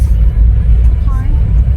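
Car driving slowly along a bumpy, shaky track near the Neolithic flint mines at Grime's Graves, a steady low engine and road rumble filling the cabin throughout, close and loud.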